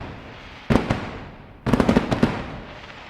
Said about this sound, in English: I'm gonna put some fireworks right here.